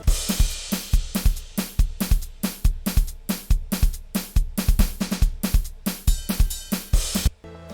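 A loud, looping remix drum beat: punchy kick and snare hits over ticking hi-hats in a steady, driving rhythm, ending on a crash cymbal wash.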